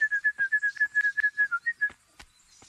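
In the video game Kingdom Come: Deliverance, a player whistles to call a horse: a loud, close run of about a dozen quick pulsed whistle notes that stops abruptly, followed by faint clicks.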